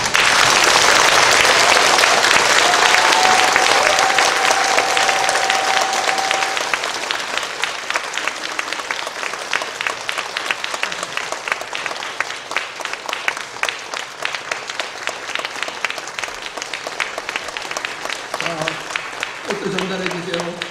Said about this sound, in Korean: 제 말씀에 동의하시는 큰 박수를 보내주시기 바랍니다